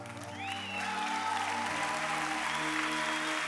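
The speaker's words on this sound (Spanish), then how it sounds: "Creo que han empezado a aplaudir los padres aquí," Audience applause from parents at a church youth gathering, a steady, fairly loud wash of clapping that swells early and holds evenly throughout, with a faint tone and speech underneath.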